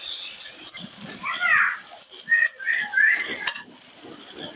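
Taro stolons and fried shrimp are stirred together in a hot wok, giving a soft sizzle with scraping strokes of a spatula and a few metallic clinks close by.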